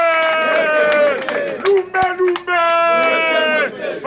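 A rally crowd cheers and chants in loud, sustained bursts that keep rising and breaking off, with voices shouting over the roar.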